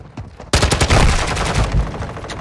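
Rapid automatic gunfire from Call of Duty Modern Warfare 2 erupts suddenly and rattles on in a loud, dense burst of shots, close up and without speech.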